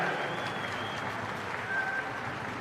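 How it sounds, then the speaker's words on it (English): Spectators at a New Zealand swimming championship applaud steadily, a broad, even wash of clapping from an indoor crowd lasting the whole moment. "let's give her a massive round of applause, ladies and gentlemen"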